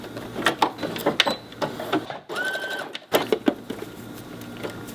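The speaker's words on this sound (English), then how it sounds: "we're gonna go put some zigzag stitches here to secure" A sewing machine runs zigzag stitches to secure elastic on a cut-out swimsuit, stitching in quick uneven bursts with brief pauses and one short quiet gap midway.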